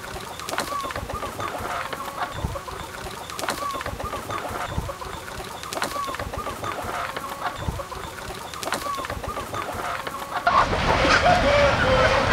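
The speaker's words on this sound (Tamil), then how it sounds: "இது நாட்டுக்கோழியில் பெட்டக்கோழி." A native country hen clucks repeatedly on a large chicken farm, with steady rhythmic clucks and other fowl in the background, and someone speaks over the sounds throughout.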